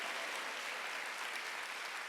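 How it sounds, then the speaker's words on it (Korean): Brief, faint, steady clapping from a church congregation during a Wednesday worship sermon, heard as an even wash of applause without speech. "시험 박수 하세요."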